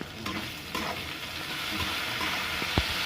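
Chopped tomato hits hot oil in a pan for a prawn and pointed-gourd dish, a bright, busy sizzle with stirring, close and steady for a few seconds, no talking.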